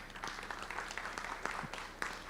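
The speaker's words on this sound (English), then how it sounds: "A round of applause for Vishnu, please." Applause from a seated conference audience at a WordCamp event in Kerala, fairly faint and distant, a steady wash of many hands clapping with a few sharper claps standing out.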